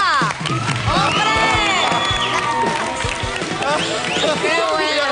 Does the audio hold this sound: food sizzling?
no